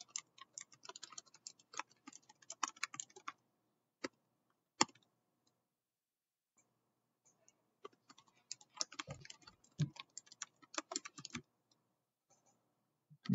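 Computer keyboard typing while code is written, bursts of quick, close key clicks with a long quiet pause in the middle, then a second flurry of typing; no talking.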